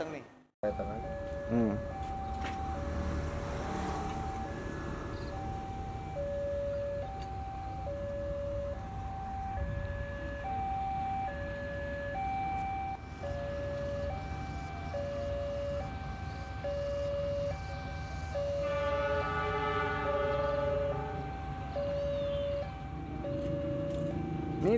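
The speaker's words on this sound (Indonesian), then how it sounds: "Kereta udah mau datang nih." A train pulls up and rolls past near rice fields in Garut, Indonesia, its horn sounding as a long, steady, tonal blast over a continuous loud rumble, with a voice speaking at moments.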